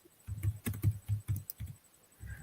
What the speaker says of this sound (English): Do you need a hammer and chisel for that keyboard, Alex